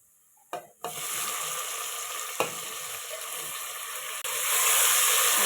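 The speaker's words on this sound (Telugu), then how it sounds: "ఆనియన్స్ ఫ్రై అయిపోయినాయి టమాటో వేసుకున్నాము" Tomatoes go into a pan of fried onions for a spicy paya curry, and a loud, steady sizzle of frying carries on after a brief clatter as they hit the hot oil.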